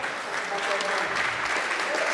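Audience at a village community address giving a round of applause, a thick continuous wash of clapping with a faint murmur of voices underneath, steady and full from start to finish.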